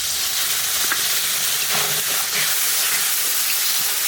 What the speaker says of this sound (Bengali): মশলাটাকে ভালো করে কষিয়ে নেব।